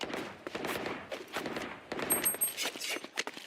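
Rapid gunfire from the tactical shooter Valorant, heard during a KRU vs GIA or NRG vs ZETA esports match, crackles in quick bursts of sharp shots. The shots are fairly quiet and sound somewhat distant, with brief gaps between volleys.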